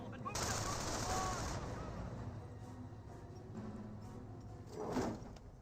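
MG42 machine gun fire in the Company of Heroes battle game: a dense, continuous rattle of bursts with battlefield noise underneath, and a brief swell near the end.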